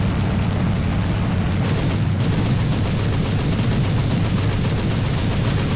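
Aircraft gunfire in the air-combat game War Thunder, a continuous loud rattling barrage of rapid shots over a heavy roaring engine, with no pause.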